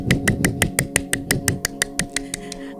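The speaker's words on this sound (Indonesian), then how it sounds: "Tepuk tangan yang meriah." Children at a kids' church service clap their hands in a steady, even rhythm of about a dozen sharp claps, close and fairly loud, with no talk over them.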